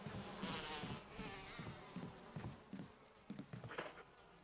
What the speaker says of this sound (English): They sound like normal bees.